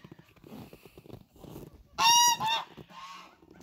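Farm geese honk close by on a cold morning, with a burst of loud, overlapping calls after some softer grunting and gabbling.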